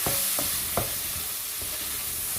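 Dal fries in a pan while red chili powder is stirred in, a loud, steady sizzle broken by a few quick spoon scrapes near the start.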